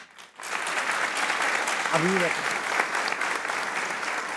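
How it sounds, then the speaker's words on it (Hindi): A cricket event crowd applauding, a broad steady wash of clapping held from start to end, with a voice speaking briefly over it. "तालियां बजाएं, तालियां।"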